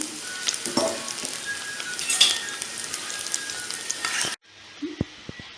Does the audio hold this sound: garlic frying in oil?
yes